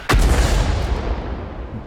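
A single heavy tank cannon blast in a video game booms out, followed by a long rumbling decay that fills the rest of the moment.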